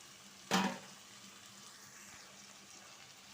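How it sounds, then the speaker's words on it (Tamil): Chopped okra sautéing in a pan with onion and tomato, a faint steady sizzle under one sharp, louder stir or clatter near the start, then quieter frying, no talking. "இதை நல்லா நம்ம கொஞ்சம் வதக்கிக்கலாம்"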